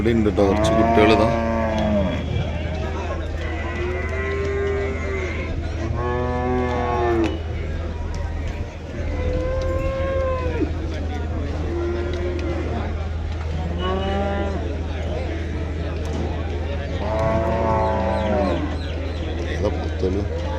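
Young bull calves moo repeatedly at a busy livestock market in Kerala, with about seven loud, drawn-out calls spread across the stretch over a steady low hum of crowd and traffic.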